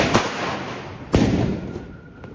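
Diwali firecrackers go off outdoors on a rainy night: two sharp, loud bangs about a second apart, each with a rumbling decay, followed by a fainter distant pop.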